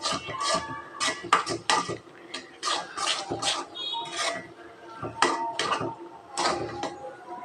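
A spoon scrapes and clatters in a pan of butter halwa with raisins, giving a series of close, irregular metallic stirs.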